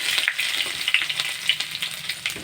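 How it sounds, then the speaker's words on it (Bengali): Banana flower frying in a pan with grated ginger and cumin seeds, a dense close sizzle with light stirring scrapes over a short stretch, no voices. "ভালো করে ভেজে নেব"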